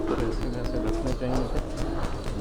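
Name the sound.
pigeons cooing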